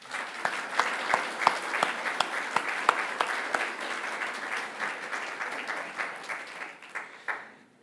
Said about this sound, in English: please join me in giving a big applause for our board